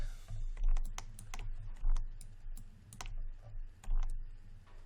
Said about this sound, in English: I'm going to go and hit 1 on my keyboard